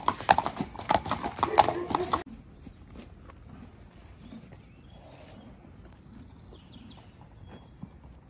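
Horses at an international tournament, hooves clip-clopping in a quick close run at the start, then quieter sparse steps and faint rustling, with some speech in the background.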